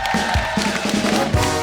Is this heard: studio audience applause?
yes